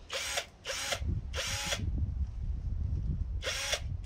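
A Parkside PSBSAP 20-L cordless impact drill spins up in four short loud bursts, each ending abruptly as the brake stops the chuck, with quiet gaps of low background rumble between runs.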